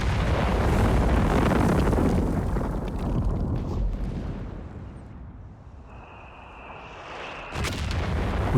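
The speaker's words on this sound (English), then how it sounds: "Takes quite a long time between each shell, so it can be pretty easy to vacate the area after it begins to fire and lands that first shot." Artillery shells burst in the Company of Heroes 3 video game, a loud rumbling explosion that decays over several seconds into a lingering roar, followed by another sharp impact near the end.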